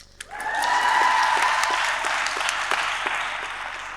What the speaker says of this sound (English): now everyone just cheer for Peter so he blushes.